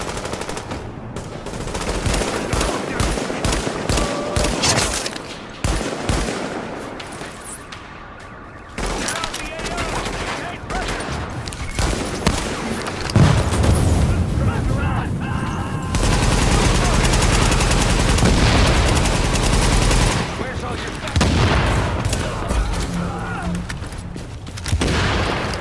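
Heavy gunfire in The Division video game, set in a wintry New York, comes as rapid automatic bursts and scattered shots mixed with booms, loud and nearly continuous, with a voice speaking at times over the shooting.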